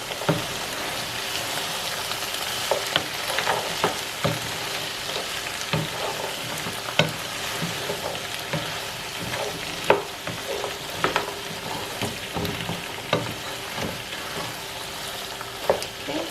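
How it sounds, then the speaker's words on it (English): Okra soup with frozen okra stirred in a pot, a continuous bubbling sizzle broken by repeated scraping taps of the spoon against the pot, no talk. "Give it a stir there."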